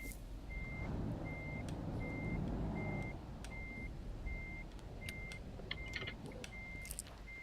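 A truck in a driving video game reverses, its backup beeper sounding a steady series of evenly spaced beeps over a low engine rumble, with occasional clicks and a faint hiss.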